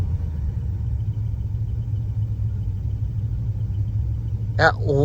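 A 1967 Chrysler 300 engine idles roughly with a steady, close, low rumble, and a brief voice cuts in near the end.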